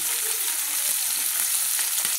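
Bata fish fries in a pan, giving a brief, steady sizzle heard close by with no speech.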